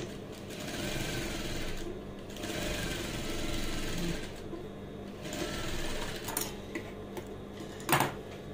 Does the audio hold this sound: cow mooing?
no